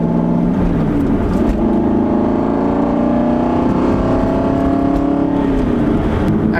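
An Aston Martin V8 Vantage sports car drives with a loud, steady engine drone from inside. The pitch rises and falls gently with the revs, and no one speaks.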